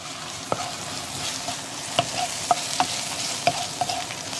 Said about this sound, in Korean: 이번에는 면이 다 익을 때까지 볶아줘요